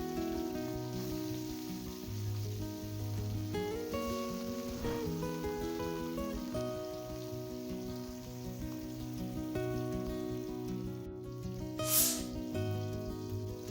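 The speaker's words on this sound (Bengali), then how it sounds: "তেল গরম হয়ে গেছে, মাছগুলো ভেজে নেব। দিয়ে দিচ্ছি মাছ।" Fish fry in hot white oil, a faint steady sizzle like light rain on a surface, running continuously under a droning background tone.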